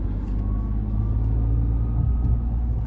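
A 2025 Ford F-150 PowerBoost hybrid pickup hums with a steady, loud low drone while driving. A faint, constant buzzing tone sits inside the road rumble throughout, with no talking.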